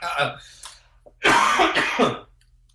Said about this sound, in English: Do you mind if I do a little coughing?